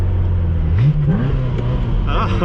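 A Ferrari engine revs while driving in second gear, the loud low drone climbing steadily in pitch as revs rise, then holding near and strong with faint road noise.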